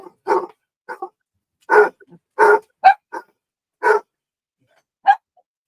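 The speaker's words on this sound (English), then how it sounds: "You got dogs coming through here at all times." Several dogs barking indoors in a house, with a series of short, loud, sharp barks in irregular bursts and clear pauses between them, up close and with no talking.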